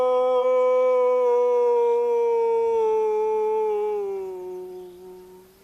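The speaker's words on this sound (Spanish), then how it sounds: "Cada septiembre, Vadim Siderovich se pone en camino para llamar a los cachorros de lobo." A single long wolf howl in the wild, near and loud, holding a steady rich tone that slowly sinks in pitch and fades out over several seconds, with no other sounds.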